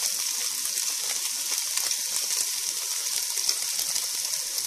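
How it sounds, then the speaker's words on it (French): Onion goes into pork caramelizing in a pan, producing a continuous close, fairly loud hiss with dense light crackling and no voices. "Et à ce moment-là, j'ajoute l'oignon."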